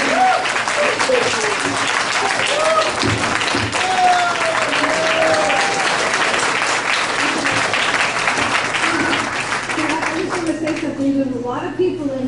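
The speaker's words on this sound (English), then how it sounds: "if you'll keep your applause down to really none, it would be great" A packed room at a board of education hearing on John Henry High School breaks into sustained applause and cheers lasting about ten seconds, with voices mixed in, before it thins out at the end.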